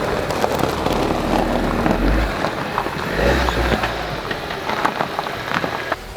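A Suzuki S-Cross 1.4 turbo mild hybrid drives along with a steady mid-pitched engine hum and road rumble, low surges swelling twice, heard from inside the car with no talking.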